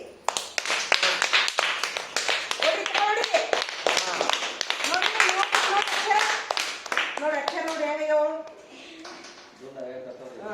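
Children in a classroom clap in a fast, dense patter of claps mixed with lively voices, then the clapping fades out and the talk continues.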